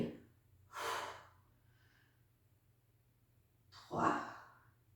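Two audible breaths during a yoga session: a long airy exhale followed by a second breath a few seconds later, close and soft against a quiet room.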